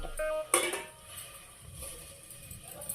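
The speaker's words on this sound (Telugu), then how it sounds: "ఖాళీ గిన్నె పెట్టాను అన్నమాట." An empty cooking vessel set down on the stove while making old-style rasam, a single close metallic clink and clatter early on, followed by faint quiet background.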